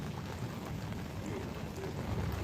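A heavy typhoon rainstorm pours down at Guangzhou Baiyun airport in a steady, dense roar of rain with no break and no voices.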